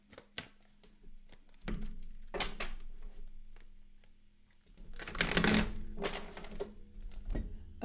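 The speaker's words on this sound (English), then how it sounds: "Let's do one shuffle." Cards shuffled for a psychic tarot reading, a close run of riffling, tapping and thumping bursts, loudest in one dense riffle near the middle, with no talking.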